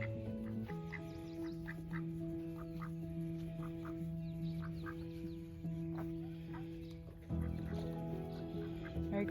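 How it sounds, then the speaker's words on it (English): Ducks quack in a garden, a run of short nasal calls scattered over a steady background of music-like tones, fairly close and moderately loud. "Oh, silly ducks."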